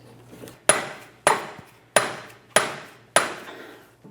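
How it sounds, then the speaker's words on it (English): A rubber mallet drives a Honda Civic CV axle into place with five evenly spaced, solid thumping blows, each ringing briefly before the next. "Use a rubber mallet on the end here and drive it into place."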